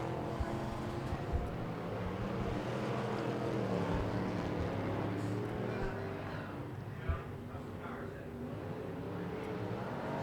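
Stock cars in a Factory Stock heat at Tulsa Speedway roar around the track in a steady, continuous engine drone, with a race announcer calling the action over the top throughout.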